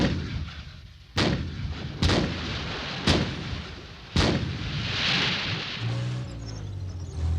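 Main guns of armoured engineer vehicles firing in battle, four heavy booming shots at roughly one-second intervals, loud and close, each leaving a rumbling tail, with a low engine drone rising near the end.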